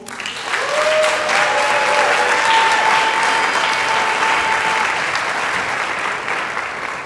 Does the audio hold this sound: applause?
yes